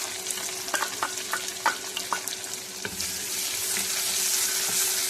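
Chopped onion sautés in hot oil with chillies, cumin and mustard seeds, giving a steady, close sizzle broken by quick scraping stirs.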